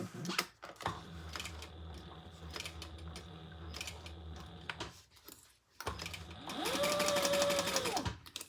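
A sewing machine stitches a seam on a crossbody bag, a close, rapid mechanical chatter that runs in bursts, pauses briefly, then speeds up into a higher whirring run before stopping.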